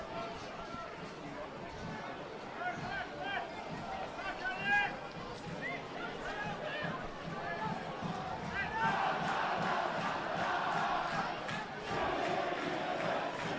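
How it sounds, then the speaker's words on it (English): The crowd at a Galway v Longford football match getting vocal, a rumbling roar of many voices with shouts rising and swelling toward the end, heard under a commentator talking. "Nice to see the crowd getting vocal now"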